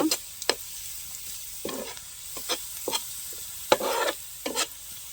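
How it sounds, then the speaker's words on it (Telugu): Softened onions frying in a pan for an egg roast, a faint sizzle punctuated by several sharp spatula scrapes and clinks at irregular intervals. "ఉల్లిపాయలు అయితే బాగా మగ్గినాయండి మళ్ళీ మాడనేయకూడదు"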